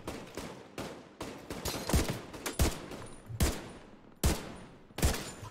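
A gun fires in The Division 2, several loud sharp shots spaced about every half second to second, each with a short echoing tail, alone with no talk.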